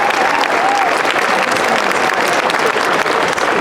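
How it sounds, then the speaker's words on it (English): Loud, dense crowd applause at an outdoor March For Science rally, steady clapping close by and sustained for the whole stretch, with faint voices mixed in. "Let's give them another round of applause for the work that they did"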